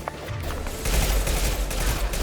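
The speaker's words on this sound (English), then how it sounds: "Concussive shot. There. Enemy down." Concussive shot ability firing in Mass Effect 2 Legendary Edition amid a dense, continuous gunfight, with heavy booming impacts and rapid gunfire swelling louder partway through, no talking.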